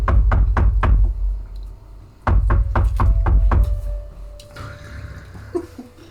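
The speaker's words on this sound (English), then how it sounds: "I do go down and knock, actually." Hard knocking on a door during a tabletop role-play session: two loud bursts of rapid, heavy thuds, about five blows each, close and distinct, followed by quieter shuffling.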